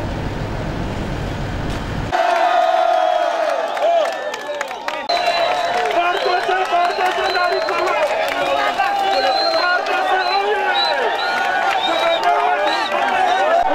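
A large, joyful crowd in Rutshuru, Congo, cheers and shouts to welcome its young governor after liberation. After a brief rumble of vehicles, the dense crowd noise swells loudly with many voices, whistles and clapping mixed together.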